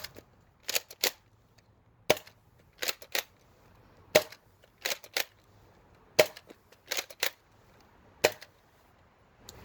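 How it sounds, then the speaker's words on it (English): An air gun fires Out of Darts Proton rounds through a chronograph, producing sharp close snapping shots, mostly in pairs at regular intervals with quiet gaps between. "we're going to fire 5 rounds out of this 10 kilogram Chronos"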